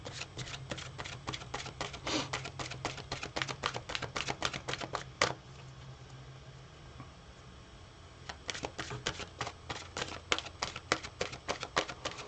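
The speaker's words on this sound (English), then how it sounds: "I got to shuffle it clear again." A tarot card deck being shuffled close by, with quick rhythmic riffling snaps in two bursts around a quieter middle stretch of soft card handling.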